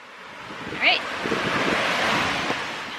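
Wind gusts steadily across the beach at Akumal, Mexico, buffeting the microphone over a background wash of surf, with a brief voice or call near the start.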